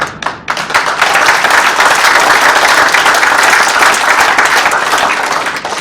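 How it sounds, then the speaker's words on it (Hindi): Loud, sustained applause from an audience at a stage event during a public awareness campaign in Moga, Punjab, thick continuous clapping from many hands holding steady throughout. "यहाँ स्टेज पे इतनी तालियां बज रही हैं"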